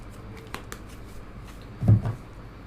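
Tarot cards are handled and shuffled at close range, with a few soft flicks and light slaps, then a slightly louder riffle near the end over quiet room noise.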